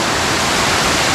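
A waterfall in the Sahyadri forest near Poladpur roars in a loud, dense, continuous rush of falling water, close by and with no voices.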